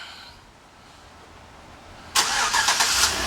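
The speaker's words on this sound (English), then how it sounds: "and the car turns right on." A 2012 Chevrolet Suburban LT starts by remote start: quiet ambience, then the engine cranks and catches abruptly, settling into a loud, close idle with a few small surges.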